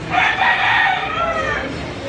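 A rooster crows in one long, loud, wavering call close by, its harsh cry stretching across the whole moment.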